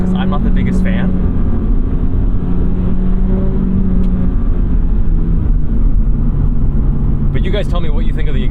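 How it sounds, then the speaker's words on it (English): A 2022 Toyota GR86 Premium's exhaust produces a loud, steady low drone while driving, with no break in the sound. "But you guys tell me what you think of the exhaust."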